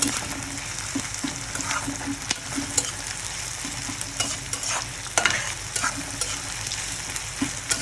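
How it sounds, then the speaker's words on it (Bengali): Onions with garlic and black cumin fry in hot oil with a steady sizzle, punctuated by repeated scrapes and taps of a spoon stirring in the pan, close and moderately quiet. "তো আমি এখন লাল লাল করে ভেজে নেব"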